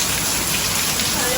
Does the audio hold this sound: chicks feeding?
no